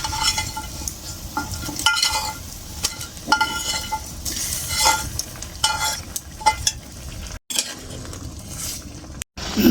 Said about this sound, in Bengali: এখন হালকা চিংড়ি মাছ ভাজাগুলো দিয়ে নেব।